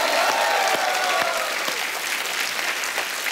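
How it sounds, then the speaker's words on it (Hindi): A studio audience on a comedy talk show breaks into loud, sustained clapping in tribute to a singer, dense and steady for a few seconds, with faint crowd murmur. "एक बार जोरदार तालियां हो जाए उनके लिए"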